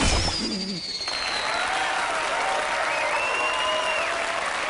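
Synthetic-sounding applause in The Gunstringer video game swells and sustains evenly, with a few whistling electronic tones gliding over the crowd noise.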